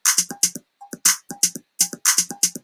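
A drum machine's programmed pattern C runs in a tight, repeating loop of kicks, snares and bright hi-hat ticks. The beat is steady and fairly loud, with no voice over it.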